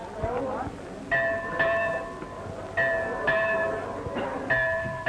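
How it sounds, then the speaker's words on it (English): A bell rings out in a 1935 rural schoolhouse drama setting, struck in repeated clanging peaks with clear ringing tones, each stroke sounding out over a low background rumble. "There's the bell."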